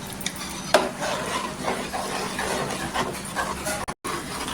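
A spoon stirs white gravy with spices in a pan, giving close scraping and light clinking against the metal over a soft background sizzle, with one brief sharper knock near the start.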